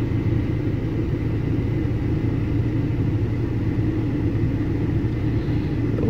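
Skoda Superb mk1 engine idling while it warms up, a steady low rumbling drone with no speech that stays even from start to finish.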